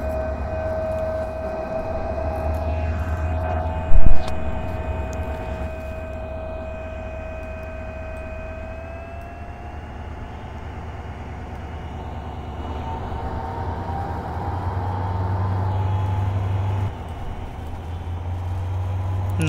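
A locomotive in a Bangladesh train simulator game pulls away slowly, its engine drone rising and shifting in pitch over a steady rumble, with a sustained tonal whine and a brief thump early on.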